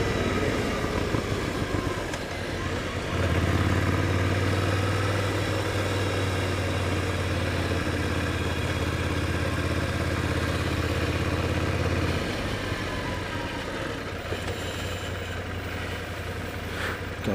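A Ducati Scrambler 800 Icon motorcycle of the older version idles steadily with a low, even engine rumble that lasts most of the stretch, then settles slightly quieter near the end, with no talk over it.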